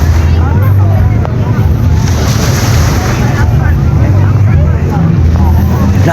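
Many bangka motorboat engines roar loudly and continuously close by at the Bancathon boat event, with water rushing against the hull and voices faintly underneath.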